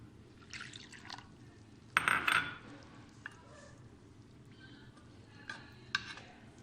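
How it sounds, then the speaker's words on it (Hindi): A brief burst of two cups of water pouring and splashing into a mixture in a container, lasting about half a second, with faint kitchen clinks and drips around it. "अब हम इसमें 2 कप पानी शामिल कर देंगे"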